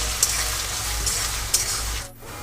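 Chopped onion frying with diced potatoes in a pan gives a steady, close hiss of oil, with occasional brief scrapes and taps of a spatula as the pieces are stirred.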